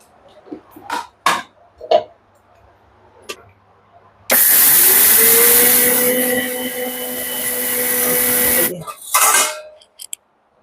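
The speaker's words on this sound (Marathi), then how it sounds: "आणि मिक्सरमध्ये गाळून घ्यायला" An electric kitchen mixer grinds sorghum for ambil, starting abruptly and running loud and steady for about four seconds with a whining motor note, then cutting off. A few clicks and knocks come before and after.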